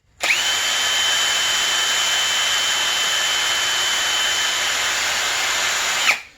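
Snowmobile spindles from a 2002 Arctic Cat ZR 800 get a quick polish with a power tool, a loud, steady high-pitched whine that spins up sharply, holds for about six seconds and then cuts off, heard alone.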